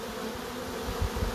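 Angry bees swarm and drone during a wall cut-out, a dense, close buzzing hum that holds steady with slight pulses and no voices over it.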